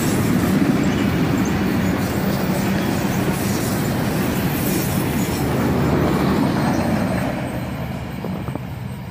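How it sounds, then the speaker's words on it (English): The tail of a CSX freight train, ending with a fully graffitied autorack, rolls past close by in a loud continuous rumble and wheel rush that eases slightly in the final seconds, with no talking. "And a fully graffitied autorack brings up the end of that train"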